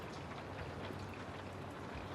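Steady rain falls with a dense, even hiss and patter that continues unbroken and fairly soft, with no voices.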